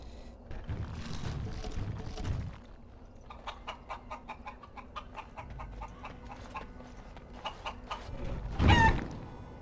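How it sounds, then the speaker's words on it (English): Chicken in the video game Dragon Age: Origins giving a string of rapid, clear clucks and squawks, close and fairly loud, with brief low rumbles and a louder burst near the end. "There goes the chicken."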